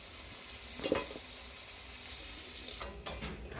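Sliced onions stirred in hot oil left from frying potatoes hiss steadily up close, broken by a couple of spatula scrapes near the start and end.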